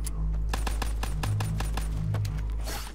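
Rapid automatic gunfire in the Black Ops 3 Zombies video game, a loud, dense stream of shots with a steady rhythm over a low droning game background, lasting throughout.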